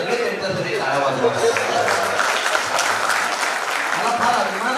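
An audience applauds at a poetry recital gathering, steady dense clapping from a crowd throughout, with voices murmuring underneath.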